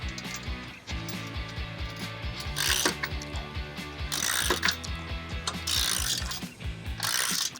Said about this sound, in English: Use your 19mm tool to go ahead and tighten it through the hole.